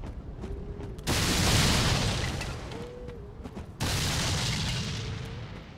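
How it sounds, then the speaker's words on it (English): Two sudden, heavy booming blasts erupt as barrels are smashed in Dark Souls III, each a loud, broad explosion that cuts in abruptly and then rumbles on at length. "the sound when I break the barrel is like a big mighty explosion"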